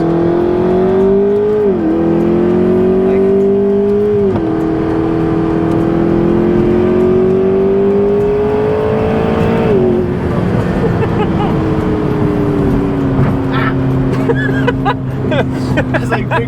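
A McLaren 650S sports car accelerating hard on the road, its loud engine note climbing steadily in pitch with several sharp drops at gear changes, continuous for about sixteen seconds.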